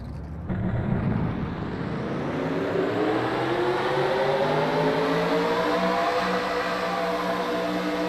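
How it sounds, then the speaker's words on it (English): Race car engines in NASCAR Racing 2003 fire up together at Auto Club and hold a loud, sustained droning roar with a slowly rising whine, the field idling and revving in unison with no talking. "Drivers, start your engines!"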